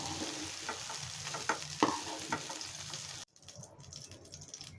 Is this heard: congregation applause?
no